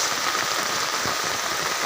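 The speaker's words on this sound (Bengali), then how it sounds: "আর যে বৃষ্টি হচ্ছে" Steady rain falls over flooded fish farms in Noakhali, a dense, even hiss of drops hitting water and surfaces across the whole stretch, close and continuous with no voices.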